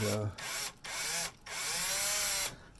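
A power drill whirs in three bursts separated by short pauses, close and fairly loud, pitch rising slightly as each run continues, drilling into a heating element base without cutting oil.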